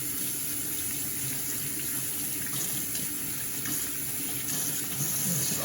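Porcupine meat is rinsed under a running kitchen tap, a steady, close splashing rush of water hitting the meat and sink without a break, moderately quiet.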